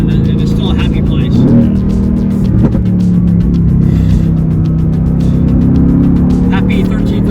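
Mercedes-AMG GT R engine held at half throttle, revs climbing to about 4,500 rpm before a gearshift, a steady loud rumble throughout with a brief dip at the shift, driving behind trucks on a road, with talk over it.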